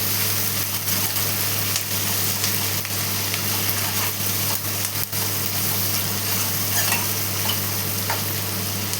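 Long-cut onion strips sautéing with salt in a pan give a steady, continuous sizzle with no pauses and no talking.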